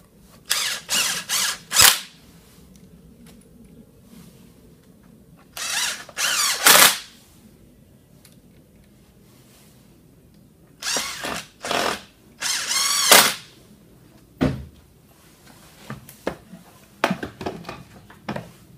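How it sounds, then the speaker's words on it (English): A power drill drives screws back into a T-REX EZ Slotter post and beam tool in loud repeated bursts of whirring, separated by quiet pauses. "We're going to run those screws back in."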